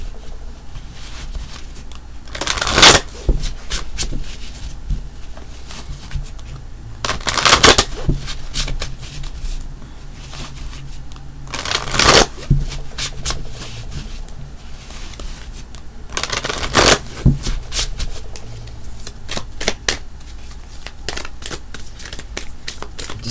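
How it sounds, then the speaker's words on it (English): A deck of tarot cards is shuffled up close, with about five sharp bursts of riffling spaced every few seconds between softer handling and rubbing of the cards. "Just let me give these a good shuffle real quick."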